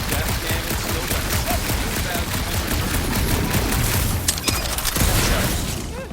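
The death cannon in Marvel's Guardians of the Galaxy video game fires in dense, rapid bursts of weapon fire, loud and continuous, with mechanical clatter and sharp booms throughout.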